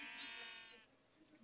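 A Minecraft sheep gives a single short, nasal bleat, clear and close, with faint game ambience fading after it.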